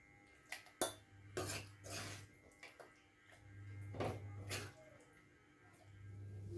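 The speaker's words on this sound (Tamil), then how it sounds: "மிக்ஸி ஜாரில் போட்டுக்கலாம்" Cooled ingredients for a spicy kara chutney are scooped into a mixie jar, with several sharp metallic clinks and scrapes of a spoon against steel amid soft shuffling, close and fairly quiet.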